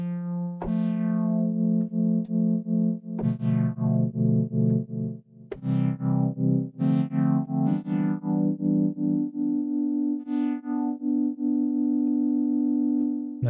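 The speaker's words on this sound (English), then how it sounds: "So the amplitude depth. So this will give it like a tremolo sound" A Roland Gaia SH-01 synthesizer plays sustained notes with a fast amplitude tremolo that pulses the loudness rhythmically. Each new note begins with a sharp attack, and no one speaks.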